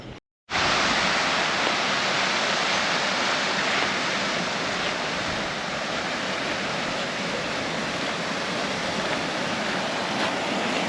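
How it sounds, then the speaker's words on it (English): Strong wind roars without a break in the Cairngorms mountains on a snowy day, a loud, broad, steady rush close to the microphone after a brief cut at the start. "oh, it's getting windy."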